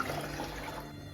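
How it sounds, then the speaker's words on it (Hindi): Water is poured into a pan of sugar to make syrup for gulab jamun, giving a soft, steady splashing trickle that stays faint and close for about a second. "और साथ में ही हम पानी ऐड कर देंगे।"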